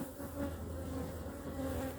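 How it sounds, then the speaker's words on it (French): Honeybees buzz at a beehive in a dense, steady, close swarm drone that holds level throughout, with no talking. "Les abeilles sont belles."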